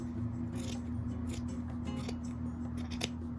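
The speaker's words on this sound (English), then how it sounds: "It's time to do some cutting." Sewing scissors cut through fabric for a lace ruffle dress, giving a series of crisp, close snips at uneven intervals over a low steady background hum.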